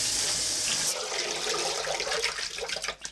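After vegetables are washed, water drains out of a kitchen sink with a steady rushing flow. It is fairly loud and close, then breaks into gurgling splashes as it empties.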